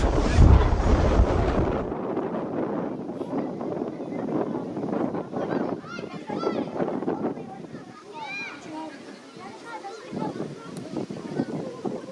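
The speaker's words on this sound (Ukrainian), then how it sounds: "Ох, вітер." Wind gusts into the microphone at an outdoor football court during a school team match, a loud rumbling buffet for the first two seconds before easing under a commentator's voice.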